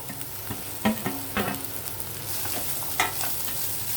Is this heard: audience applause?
no